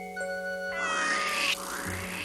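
A cartoon cat lets out a drawn-out, rising meow over steady background tones and music, clear and moderately loud, with no speech.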